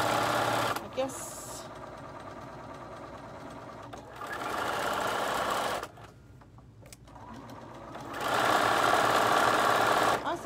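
An older Bernina 1130 sewing machine stitches in rapid, even bursts that start and stop, close and clear, with people talking between the runs of stitching.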